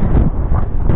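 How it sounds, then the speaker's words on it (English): Loud, rumbling wind blasts directly into the microphone outdoors in snow while scrap metal is loaded, a dense, steady roar filling the whole moment. "It started getting windy."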